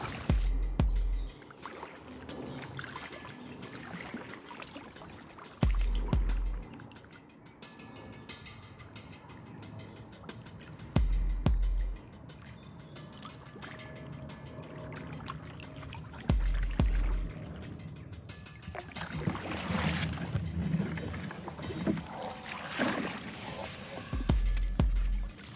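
Kayak paddling on the River Wey, with periodic close paddle strokes splashing about every five seconds and water trickling and dripping between them, fairly quiet overall.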